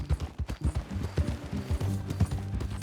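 Horse hooves clip-clop in a steady, close rhythm in the video game Red Dead Redemption 2, with a low ambient bed beneath the repeated sharp hoof strikes.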